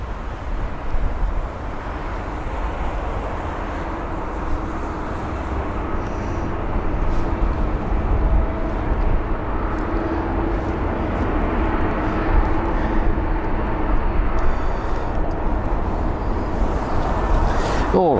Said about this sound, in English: The A380, though, is the next aircraft in line for its arrival.